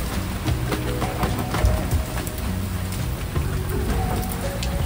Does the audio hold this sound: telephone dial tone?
no